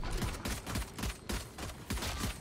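Rapid gunfire rings out in the video game Valorant, a fast series of about a dozen sharp shots in an even rhythm, loud and close, with no talk.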